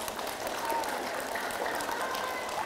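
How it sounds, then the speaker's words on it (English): A library audience at a magic show gives a volunteer a round of applause, a steady wash of clapping from a roomful of people, moderately loud and continuous for a few seconds. "Peasants, give your king a round of applause."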